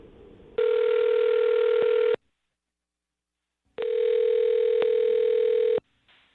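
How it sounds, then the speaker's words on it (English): A telephone dial tone sounds while a call is being placed, two steady sustained tones of about two seconds each, separated by a silent gap, loud and alone. "I'm going to dial the phone over right now"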